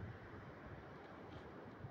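Sea waves at a beach in Luna, La Union wash in as a faint, steady roar mixed with wind buffeting the microphone, with no voices.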